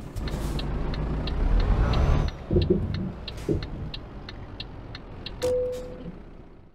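Truck engine in Euro Truck Simulator 2 rumbles steadily throughout, a low droning motor with a brief hiss like an air brake partway through and a short tonal beep near the end.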